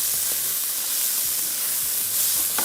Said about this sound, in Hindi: इस चिकन को थोड़ा सा और फ्राई करेंगे